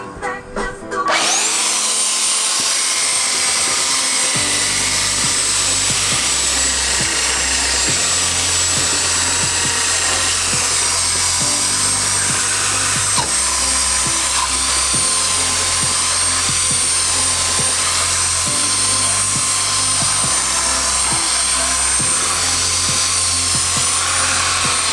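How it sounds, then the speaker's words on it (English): Power sander working on wood, a loud continuous whine and grinding hum that runs steadily, with its low tone shifting in pitch and pressure as the sander moves across the surface. "now it's time to sand"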